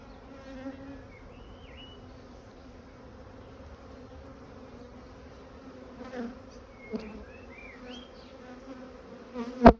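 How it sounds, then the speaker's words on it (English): A steady, dense buzzing of many honey bees around a hive fills the air, droning continuously with a few louder bees passing close by near the end. "there's just so many bees in this colony now."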